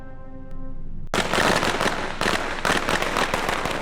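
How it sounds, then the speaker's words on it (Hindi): Firecrackers bursting during a Hindu wedding ceremony in a TV drama: after a sung or chanted passage, a dense, loud volley of rapid crackling pops erupts and keeps going for several seconds, with no talk over it. "ये कौन बेवकूफ है जो मंत्रों के बीच में पटाखे जला रहा है?"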